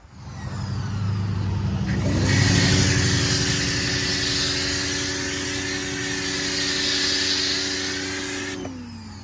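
Pressure washer foaming down a wrapped car: a motor kicks in with a hiss and holds a steady, loud whine with a pulsing spray that shifts as the wand moves, then cuts off abruptly; nobody talks.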